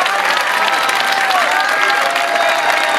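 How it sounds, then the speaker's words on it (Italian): Loud, steady applause from a large audience fills the whole stretch, dense clapping with a crowd wash behind it and no pauses. "Lei è Gloria, fate un applauso incredibile"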